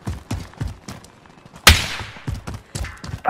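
Pistol shots ring out in a video game firefight, a rapid series of close, punchy reports with one louder blast and its fading echo midway.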